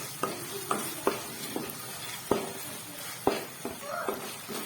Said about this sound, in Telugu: చూసారుగా వేగుతుంది బాగా బాగా గోల్డెన్ కలర్ వచ్చేటట్టు వేపేసుకుంటే సరిపోతుంది